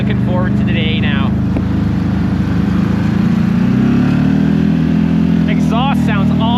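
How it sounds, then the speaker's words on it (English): CFMOTO Z-Force 950 side-by-side driving off-road at Windrock, Tennessee, its exhaust droning steadily with a shift in tone partway through, close and continuous under a man's speech. "Exhaust sounds awesome."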